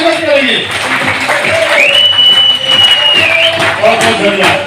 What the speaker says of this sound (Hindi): तालियों से स्वागत करेंगे।